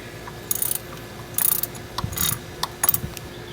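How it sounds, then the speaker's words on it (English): Ratchet clicks from a 10 mm wrench loosening a car battery terminal on a 2007 Toyota FJ Cruiser, heard as several short close bursts of rapid clicking separated by brief pauses, with no talk over them. "It takes a 10 millimeter ratchet."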